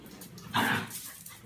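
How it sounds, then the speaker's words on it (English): A single short bark from a dog in the Minecraft video game, loud against a faint background, with no one talking. "The dog's name is actually Pepsi"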